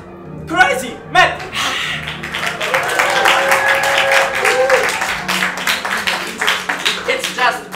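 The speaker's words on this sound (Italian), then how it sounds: "La folla in delirio. Crowd is crazy." A stadium crowd at a 1930s Italy–Hungary football match roars and applauds after a goal, a loud sustained swell of cheering and clapping that rises, holds, then stays busy to the end.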